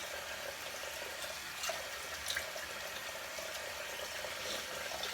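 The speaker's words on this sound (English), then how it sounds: "I'm gonna wet my face a little bit." Warm running water at a bathroom sink during a morning skincare routine, a steady close hiss with a few light splashes as a face is wetted.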